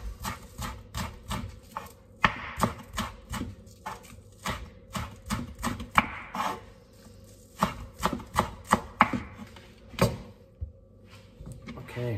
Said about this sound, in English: next we have to thinly slice the spring onion